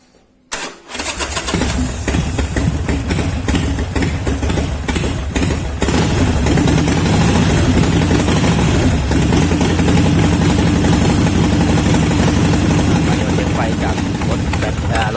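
A 2010 car undergoing an electrical system check cranks and catches within the first second, then settles into a loud, steady, close idle that runs without break to the end.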